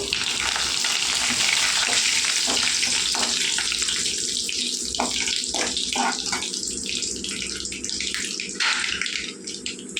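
Mustard seeds, cumin and dried chillies tempering in hot oil for a tomato masala charu: a loud, dense, continuous crackling sizzle with scattered pops, steady for ten seconds, close and without speech.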